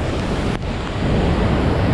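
A waterfall in full, fierce flow roars continuously, a loud, dense rush of water with wind buffeting the microphone and no talk.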